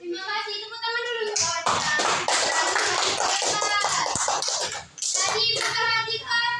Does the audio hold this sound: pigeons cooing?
no